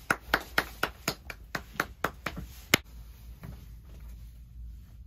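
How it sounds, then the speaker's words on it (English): Roughly a dozen sharp hand claps in a steady rhythm, close and loud, stopping partway through and leaving a quiet room with faint movement. "Everybody clap your hands."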